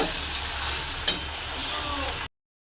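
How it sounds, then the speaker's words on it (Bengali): Chicken is sautéed together with fried potatoes in a pan, making a loud, steady hiss of frying with a single clack of a spatula midway before the sound cuts off abruptly. "এই আলুগুলো দিয়ে একসাথে আমি কষিয়ে নেবো মাংসটা ভালো করে"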